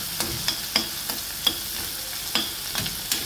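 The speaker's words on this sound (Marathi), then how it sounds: "कांदे छान आपण परतून घेऊ" Onions sauté in a pan for a sprouted matki curry, crackling in a constant close sizzle broken by regular sharp clicks of a spoon stirring and scraping the pan, with no speech.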